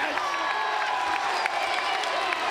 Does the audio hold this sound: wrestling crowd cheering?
yes